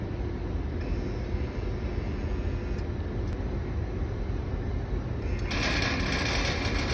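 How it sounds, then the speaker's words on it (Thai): An air conditioner with a locked compressor struggles to start while its cooling fan runs normally, giving a steady, loud electrical hum and whir that turns harsher and brighter near the end. "คอมพิวเตอร์พยายามสตาร์ทอยู่นะครับ แต่สตาร์ทไม่ออกนะครับ"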